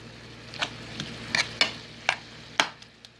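Ground turkey sizzles in a frying pan while a utensil chops and scrapes through it, giving about half a dozen sharp close clicks over a steady low fry, with no talking.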